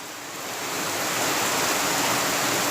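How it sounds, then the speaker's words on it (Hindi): Water poured into a pot of fried spices for masoor pulao, a loud, steady rushing hiss that swells over the first second and then holds constant, with no talking. "अब मैं इसमें पानी डालूँगी।"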